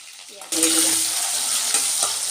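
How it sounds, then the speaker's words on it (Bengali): Three medium, slightly small onions hitting hot oil in a wok with tempering spices, bursting into a loud, close, continuous sizzle after a brief quieter moment, with no talking. "একটু পেঁয়াজটা ভেজে নেব"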